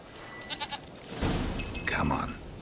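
A goat in The Witcher 3 gives a short bleat amid a noisy, rumbling game soundscape, fairly faint and close together with other in-game sounds.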